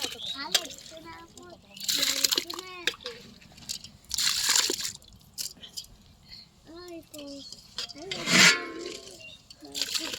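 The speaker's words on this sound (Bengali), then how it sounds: "ডালটা ধুয়ে নিই, কারণ অনেক ময়লা থাকে তো ডালের মধ্যে।" Lentils (dal) being washed by hand in a pot of water outdoors, with intermittent sloshing and splashing bursts between stretches of talk.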